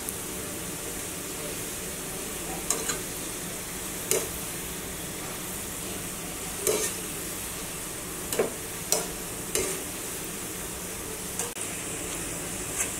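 Sliced onions for beresta deep-frying in oil for a deshi chicken kosha, a steady soft sizzle throughout with a few sharp stir or scrape clicks scattered across it.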